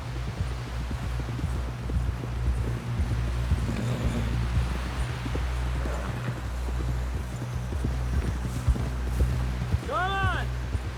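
Horse hooves clip-clopping at a steady run in Red Dead Redemption 2, a continuous rhythmic beat over rustling and wind, with a brief whinny near the end and game dialogue around it.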